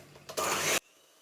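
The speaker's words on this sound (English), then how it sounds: "We add some butter, beat it up until it's disappeared, and add a bit more, and carry on until it's all gone." An electric mixer beats butter into Italian buttercream in a home kitchen, giving one loud, close whirring burst of about half a second that cuts off abruptly, with no talk.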